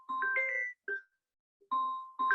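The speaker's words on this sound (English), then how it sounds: "Seems like I have a call coming on my phone." A phone ringtone from an incoming call chimes in bright melodic bursts, pausing briefly between phrases, fairly clear and close during a microscopy software talk with no voices.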